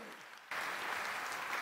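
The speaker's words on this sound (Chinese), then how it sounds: "掌声鼓励他们。" A church congregation bursts into applause for the worship team, clapping starting abruptly after a brief quiet moment and continuing as a steady, fairly distant crowd sound.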